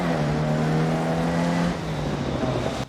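A classic Mini rally car driving at Monte-Carlo, its engine note droning steadily and loudly at close range, easing off partway through before cutting out sharply at the end, with no voices.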